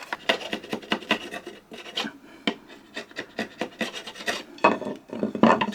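A chisel pares dried glue off an old wooden furniture piece being repaired, giving a quick series of close, dry scraping rasps in an uneven rhythm.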